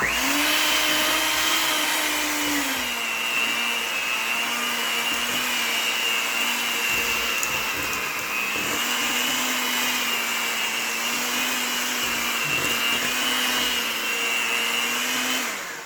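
An electric mixer whirs steadily through apple cake batter, a loud continuous motor drone with slight pitch wobbles that runs the whole time and cuts off at the very end.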